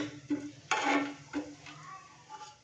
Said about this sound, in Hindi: खड़े मसालों को हम हल्का सा फ्राई करेंगे जस्ट 30 सेकंड के लिए